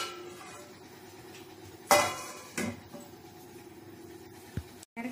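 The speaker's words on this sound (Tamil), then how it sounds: "இப்போ மறுபடியும் மூடி வச்சிடலாம்" A lid clatters down onto a pot of carrot halwa cooking in milk, one sharp metallic clank followed by a softer knock, set against a low steady kitchen hum.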